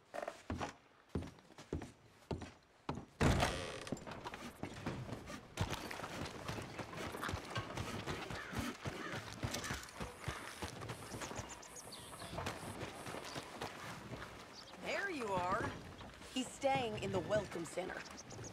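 Horse hooves clip-clop in Red Dead Redemption 2 on PC, a quick run of distinct hoof beats at first, then fading under game dialogue, ambient noise and a whinny-like sound near the end.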